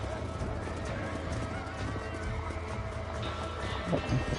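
Horses in the Red Dead Redemption video game clop and whinny amid a busy game soundscape, hooves drumming steadily at mid distance with a brief louder neigh near the end.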